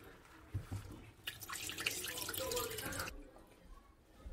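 Tap water running into a sink while pork is rinsed for bulgogi, a soft continuous splashing stream that swells for a couple of seconds, then drops back to faint drips.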